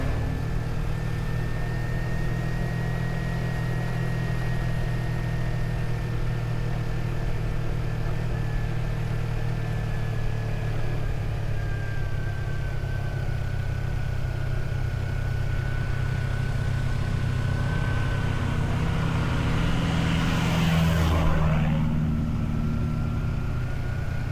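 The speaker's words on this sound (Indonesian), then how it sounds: "Selama perjalanan ini banyak sekali truk-truk yang kita lewati" Trucks and other vehicles pass along a mountain road on the lava route near Mount Batur, a steady engine rumble throughout that swells briefly as one vehicle goes by close near the end.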